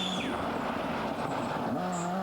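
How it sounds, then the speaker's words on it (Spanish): Rally cars pass by on a Madrid stage during the 1998 RACC Rally, their engines droning steadily at mid distance with a faint tire squeal as one goes through. "Seguían pasando coches"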